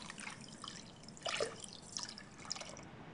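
Water poured into a saucepan with sugar to make syrup for saragli, a soft trickling and dripping splash that swells briefly in the middle, faint and close.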